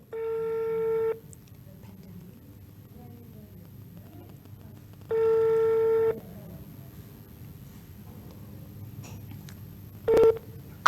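An unanswered outgoing phone call: the ringback tone sounds twice, each ring about a second long with several seconds of quiet room noise between, then a brief final beep.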